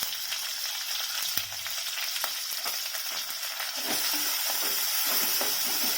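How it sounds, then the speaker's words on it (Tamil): Onions sautéing in hot oil with salt for a traditional paruppu urundai kulambu, a steady close sizzle with occasional stirring clicks and scrapes throughout. "அடுத்து வெங்காயத்தை போட்டுடலாம். வெங்காயம் வதங்குறதுக்கு உப்பு போட்டுடலாம்."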